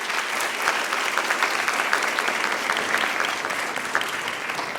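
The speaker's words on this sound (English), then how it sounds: "So can we give a round of applause to all the panelists?" Audience applause for the panelists at a discussion on voting, gender, race and citizenship: dense, sustained clapping from a crowd that keeps an even level for several seconds.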